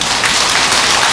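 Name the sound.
audience applause at a Buddhist temple dharma talk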